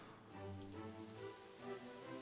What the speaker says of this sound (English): the rains are here.